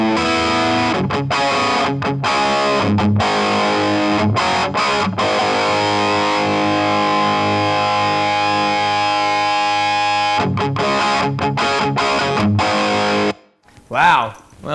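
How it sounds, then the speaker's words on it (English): An electric guitar plays through a Vox AC30 OneTwelve amplifier with a distorted, sustaining tone, chords and ringing notes filling most of the passage before a short pause and a few muffled sounds at the end. "I'd say that it kind of has that nice mid-range that, you know, I've grown to love about AC30s and stuff"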